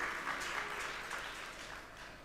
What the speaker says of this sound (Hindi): ताली बजा इसके लिए।